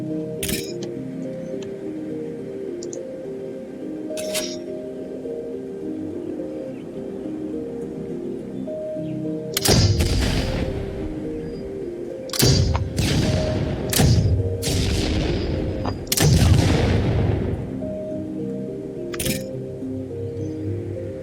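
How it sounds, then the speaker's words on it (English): A grenade launcher fires in the robot combat game BotFightSim, giving several heavy thumping blasts with bursts of noise after them. They are spaced a second or two apart over a constant electronic hum. "This is the grenade launcher."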